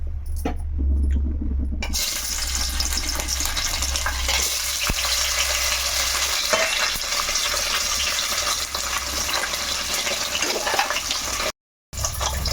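Paneer cubes dropped into hot oil to fry, a loud, steady bubbling sizzle that carries on for over ten seconds, briefly cut off near the end.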